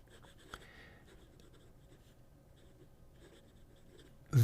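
A fountain pen with a very soft quill nib scratches faintly across paper in light, intermittent strokes, quiet and close, ending with a brief louder bump.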